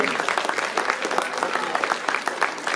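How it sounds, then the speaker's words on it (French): A crowd at a comics festival award ceremony claps for a prize winner. The applause is lively and close, with a rapid uneven patter of hands and a few faint voices underneath. "Voilà, je vous demande de l'applaudir."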